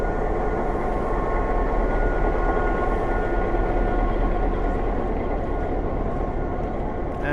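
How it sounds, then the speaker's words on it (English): A former Pennsylvania Railroad GP9 diesel locomotive pulls away with its train, a steady, loud engine drone and rumbling railcars continuing throughout without any talk. "This train's departing from New Freedom at 1 p.m."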